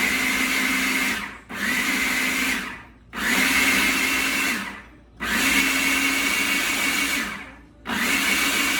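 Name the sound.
blender pureeing food with olive oil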